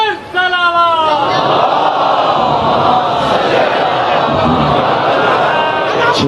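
A congregation at a majlis during Ayyam e Fatimiya in Nishtar Park chants salawat together, a loud, dense mass of voices calling out in unison that swells and holds steady for several seconds.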